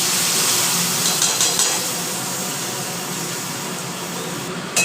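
Whole spices, panch phoron, dried red chilli, two cardamom pods and cinnamon, sizzle and crackle steadily in hot oil for dahi potol, a dense close frying hiss that eases slightly over time, with no talking.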